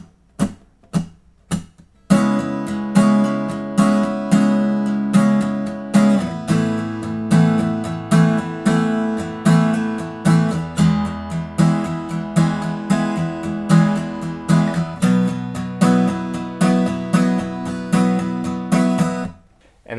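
Acoustic guitar strumming the bridge chords of a song, opening with a few muted strokes before a steady rhythmic strum with changing chords, close and bright, with no talking.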